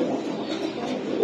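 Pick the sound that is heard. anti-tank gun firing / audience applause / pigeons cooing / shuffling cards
pigeons cooing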